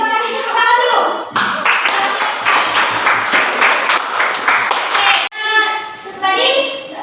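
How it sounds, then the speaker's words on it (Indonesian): A classroom of pupils applauds a group that has just finished presenting, a dense, loud burst of clapping lasting several seconds, framed by children's voices before and after. "terima kasih tepuk tangan dulu"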